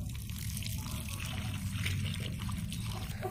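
Water poured out for chickens, a steady splashing pour under a low rumbling background, fairly even in level throughout.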